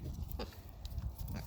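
Pigs on a farm squeal at each other in short, sharp bursts that repeat several times over a steady low rumble of farmyard noise.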